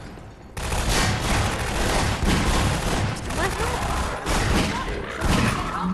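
Shotgun fire in the video game Half-Life 2: Episode 1, a dense barrage of loud blasts and thuds rolling on for several seconds, with a brief voice at the start.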